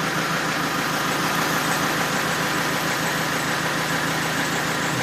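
A Mercedes engine with an injection rail fault idles steadily, a loud continuous rumble with no change in pitch throughout.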